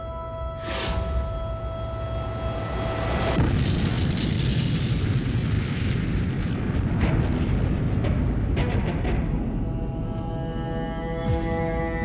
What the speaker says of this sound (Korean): 리틀보이가 투하됩니다. (57초) 만에 폭발했군요.